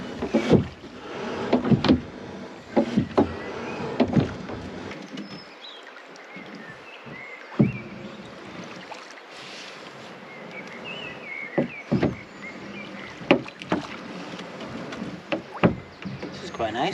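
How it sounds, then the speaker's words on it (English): Steady paddle strokes dip and splash in river water at an even pace, with a low hollow knock of a small boat and faint birds in the background. "we're going to go for a little boat ride across the river"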